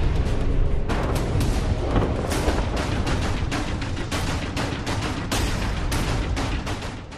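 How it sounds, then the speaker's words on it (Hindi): Explosions and artillery fire in the Russia–Ukraine war come as a dense, continuous barrage of loud booms and sharp blasts, overlapping in rapid bursts with no pause. "ना रुकेगा इन धमाकों का शोर।"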